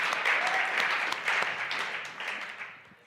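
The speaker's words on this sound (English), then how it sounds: "let's give him a round of applause" Congregation applauding at a Sunday church celebration service to honor a music director's 25th anniversary, a steady wash of clapping that slowly thins and fades toward the end.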